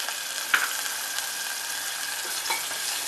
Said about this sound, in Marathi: कांदा आपण छान असा शिजवून घेणार आहोत